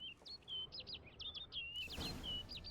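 A peacock calls in a video game, sounding as a quick series of high chirping notes, then a longer warbling call over a low ambient background.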